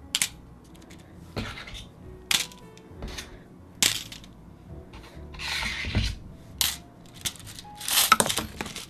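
Small metal pins dropping and rattling into a case, a string of bright clinks and scattered tinkles close by, some landing in clusters and others singly, with soft rubbing and shuffling between.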